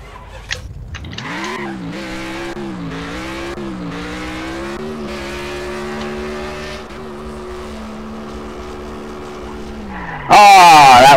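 A car in Garry's Mod drag racing brakes hard with a long, steady tire skid, its engine tone holding, then ending in a sudden loud burst.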